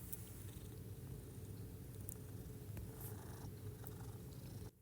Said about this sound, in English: You might be hearing a little kitty purring in the background.